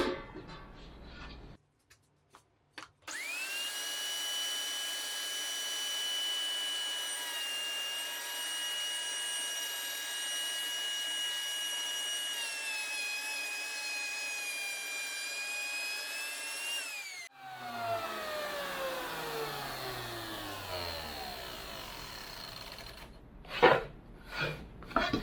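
A table saw fitted with a dado blade spins up and cuts dados in cabinet door parts: a loud, steady high whine with a scraping cut for about fourteen seconds, then the pitch falls as the blade winds down, followed by a few clunks.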